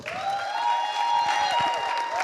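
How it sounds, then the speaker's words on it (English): A seated audience applauds as entrepreneur Mami Gyamfua Yeboah prepares to address them. The clapping is continuous and fairly even, with raised voices cheering above it. "A round of applause as she prepares to address us now."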